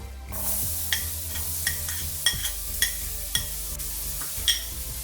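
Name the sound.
chopped onions frying on high flame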